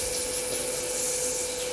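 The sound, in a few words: hand sanding a wooden egg cup with sandpaper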